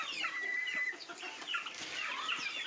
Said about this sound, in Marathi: आणि ही आहेत मित्रांनो आपल्याकडे ते पिल्ले